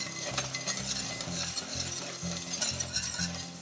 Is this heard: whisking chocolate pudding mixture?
yes